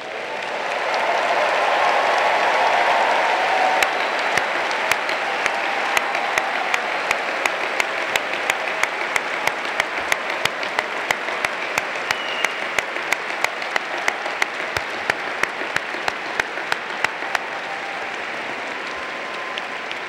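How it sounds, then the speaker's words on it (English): A large audience at a university graduate commencement applauds the new PhD recipients. The clapping is loud, dense and sustained, then thins to a steadier patter with crisp individual claps standing out toward the end. "You applauded early, but we'll do it twice"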